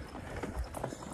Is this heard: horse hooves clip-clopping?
yes